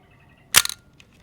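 A fully mechanical Cosina C1S film camera with a Cosina 28-105mm macro lens fires its shutter at 1/1000 second. It gives one sharp, close snap with a brief rattling tail in a quiet room.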